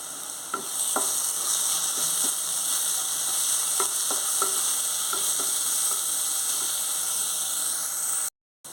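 Onions fry in a pan for a drumstick and tomato curry, giving a continuous close sizzle with scattered spoon taps and scrapes, and the sound cuts out briefly near the end.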